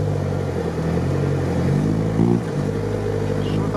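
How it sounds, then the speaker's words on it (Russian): A car engine in an off-road event revs hard, a loud, steady low drone with a brief surge in pitch midway before settling, broken engine condition noted, with no talk over it. "Что-то он там газует по-жесткому"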